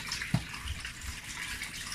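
Yam being washed under running water in a kitchen sink: a quiet, steady trickle of tap water with a brief soft splash or knock near the start, no talking.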